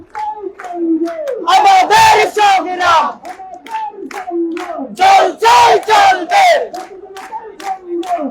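Crowd of protesting students at a sit-in at Sholoshahar junction in Chattogram chanting slogans in rhythmic call-and-response bursts, loud and close, with a leader's voice alternating with massed shouted replies.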